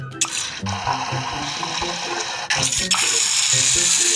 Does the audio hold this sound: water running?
yes